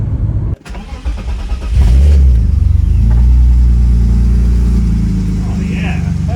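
An un-turbocharged BMW E36 engine cranks and catches, then settles into a loud, steady rumble with revving, close by.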